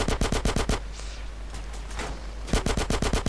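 Rapid automatic gunfire in GTA San Andreas, two dense bursts of close shots at the start and end separated by a brief lull with scattered quieter sounds.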